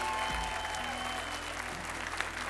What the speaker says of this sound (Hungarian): Egy nagy tapsot az egész zenekarnak